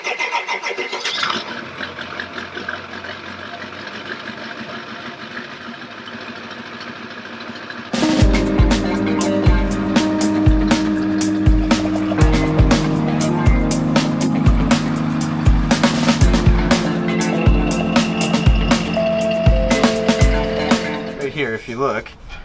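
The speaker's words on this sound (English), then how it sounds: "let's go ahead and do a cold start on the F250" Ford F250 pickup with a 7.3 Powerstroke diesel engine cold started: quiet ambience, then cranking at about eight seconds and a loud, steady, rattling diesel idle up close for the rest.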